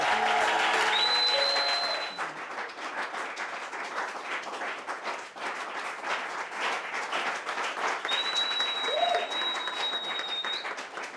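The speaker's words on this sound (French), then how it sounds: "Levez-vous et acclamez cet homme de Dieu-là." A church congregation applauds a preacher with sustained, dense clapping from a large crowd, steady and fairly loud throughout, with faint whistles or cheers rising above it.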